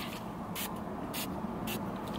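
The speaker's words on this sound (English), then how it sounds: "I have my Tower 28 spray, which I should spray my face." Three short, hissing bursts from a Tower 28 face mist spray, evenly spaced about half a second apart, sound close up over faint background noise.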